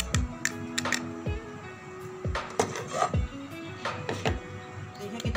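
Spices and chicken powder being stirred into a sauce in a bowl, with a spoon knocking and scraping against the sides in irregular, fairly close taps and clinks.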